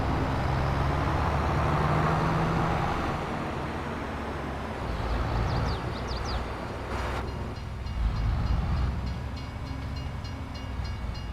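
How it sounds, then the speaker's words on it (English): A train passes in the farming video game Farming Simulator 22, a loud continuous rumble and roar of rolling rail cars with rhythmic clacking, rising and fading across the scene. "Oh, look out, there's a train."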